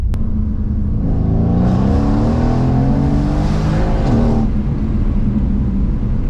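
A 2016 Mercedes-AMG C63 W205 with a Stage 2 tune accelerates hard, its engine note rising and kicking down through the gears; a loud, close, continuous rumbling roar climbs in pitch and then eases off.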